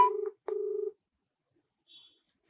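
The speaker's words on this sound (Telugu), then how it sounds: "రింగ్ అవుతుంది." Telephone tones on a call placed during a news report: two short, clear electronic beeps in quick succession, then a brief faint high tone, with silence between and no voices.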